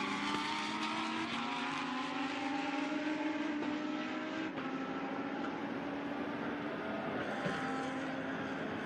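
Lamborghini Super Trofeo race cars lap the Shanghai circuit, engines droning loudly and steadily through a corner with rising and falling pitch as they pass, no talk heard.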